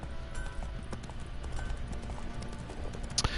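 Hooves clip-clop steadily from a horse in the video game Witcher 3, moderately close beneath a low ambient backdrop, ending with a sharp click.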